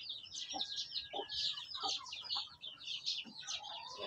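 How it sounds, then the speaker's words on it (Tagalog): Six-month-old Belgian Aseel chickens cluck and murmur close by, with a busy chorus of high chirping birds filling the background throughout. "Yung manok na to. Ganda."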